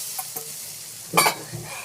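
A pan of tamarind gravy (puli kolambu) bubbles and sizzles on the stove, with soft stirring scrapes and one louder burst of frying hiss in the middle, close and without talk.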